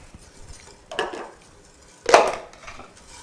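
Warmed corn syrup is stirred in a container, giving two distinct scraping, sloshing strokes a second apart against quiet, close and fairly loud.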